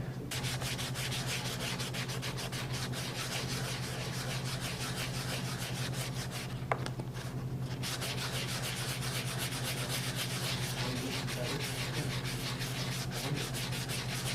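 Hand sanding fiberglass with fine-grit paper, a steady, continuous rhythmic rubbing scratch, close and even, with a brief pause partway through.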